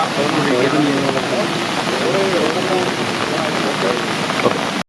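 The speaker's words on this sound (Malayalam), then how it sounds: "ഇപ്പോഴും മഴ" Heavy monsoon rain falls steadily in a landslide-hit hillside area, a constant close hiss of drops on surfaces with faint, indistinct voices somewhere beneath it.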